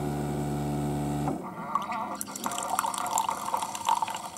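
A Keurig coffee maker brews after a repair, with a steady hum at first, then gurgling, trickling liquid filling a cup, moderately close and with no talk.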